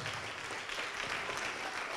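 A church congregation claps in a continuous, even patter of applause, moderately distant and soft, with no break across the short stretch.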